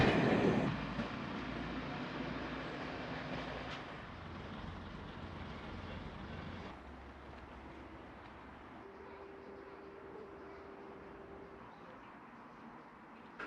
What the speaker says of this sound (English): The Class 121 will lead the way down to Swanage now